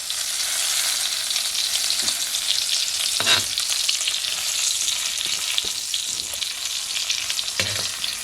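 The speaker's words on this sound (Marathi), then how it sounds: "म्हणजे ताजे मासे जे आपण आणतो ना समुद्रातले, त्याच्यापेक्षा पण फास्ट हे मासे फ्राय होतात." River fish sizzle steadily in oil on a hot pan, a continuous close crackling hiss with brief louder spits now and then, no voices.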